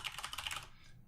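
Rapid computer keyboard typing of administrator login credentials during a software installation, a quick close burst of clicky keystrokes that trails off near the end, with no voices.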